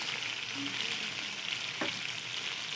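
Lengthwise-cut green chilies sizzle steadily in a pan while being cooked for a creamy onion curry, with a soft, continuous frying hiss and a single brief scrape of stirring near the end.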